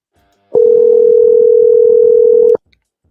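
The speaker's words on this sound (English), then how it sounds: "I'm dialing it right now" Steady telephone dial tone from a cell phone being dialed, loud and continuous for about two seconds, then cut off abruptly.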